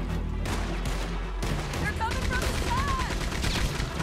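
Rapid gunfire from Red Dead Redemption 2 crackles in dense, overlapping bursts across the whole stretch, loud and continuous, with game effects and some voices mixed in.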